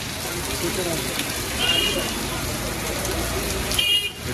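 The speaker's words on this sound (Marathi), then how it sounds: "पाऊस लागला इथं" Continuous broadband hiss of rain falling outdoors, fairly even with a slight swell partway through and faint traffic-like tones in the background.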